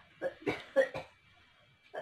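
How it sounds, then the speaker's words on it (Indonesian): An elderly woman coughs in a quick series of four harsh bursts, then pauses before one more cough begins. The coughs sound close in a quiet room. "maaf ya, neneknya batuk"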